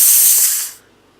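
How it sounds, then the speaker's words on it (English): A loud, steady spray of carbon dioxide gas hisses at full force for most of a second, then cuts off abruptly, leaving near silence. "Let's keep spraying CO2 on it."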